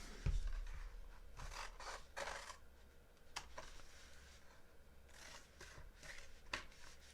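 Scissors trim the paper edges of a handmade gift bag, a run of close, soft cutting and rustling strokes in uneven bursts, quiet and without talk.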